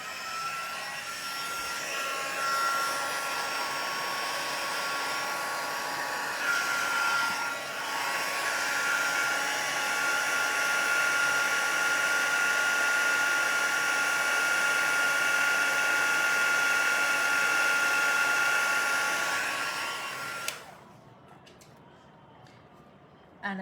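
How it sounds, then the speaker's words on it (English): A handheld heat tool for embossing blows with a steady, loud whirring hum for about twenty seconds, then switches off, leaving quiet room tone. "I am going to turn my heat tool on."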